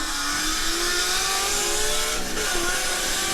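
Yamaha R1 sport motorcycle accelerating hard in a Texas street race, a loud, steady high-revving engine whine rising in pitch and holding close throughout, with no talk over it.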